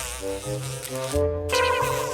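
A housefly buzzes steadily throughout a short comedy skit, with a shift in pitch partway through and no talking.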